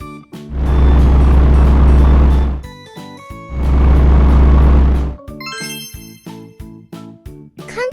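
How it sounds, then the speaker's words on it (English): A large road roller with heavy cylindrical compacting drums: two loud, sustained low engine rumbles, each lasting about two seconds, followed by a run of short tinkling, beeping tones. "A road roller is a large vehicle with heavy cylindrical drums that smooth and compact the ground."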